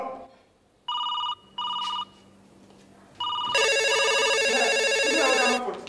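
A phone rings in short repeated electronic bursts, then breaks into a louder continuous melodic ringtone, close by with no talking.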